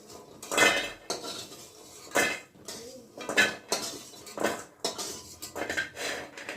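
Metal utensils clink against a wok while fried lentil dumplings are lifted out, in about half a dozen sharp, irregular bursts of scraping and clattering at close range, with no talking.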